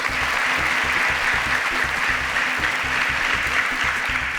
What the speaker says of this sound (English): Please, a round of applause for Sashi